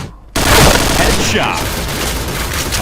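Loud bursts of rapid gunfire from the video game Point Blank, heavy and continuous after a brief quiet start.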